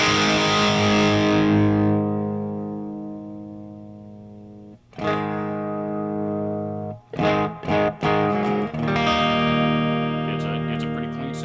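A Squier Vintage Modified Stratocaster electric guitar with its volume knob rolled back rings out with a cleaner tone. A long decaying chord is followed by a few struck chords and quick strums, close and fairly loud.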